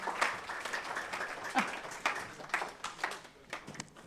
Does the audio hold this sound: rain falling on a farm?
no